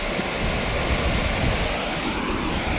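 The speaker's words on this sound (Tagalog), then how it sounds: "Ayan yung fall." Crescent Falls waterfall in Alberta rushes in a steady, dense roar that stays broad and unbroken throughout, close and loud with no voices.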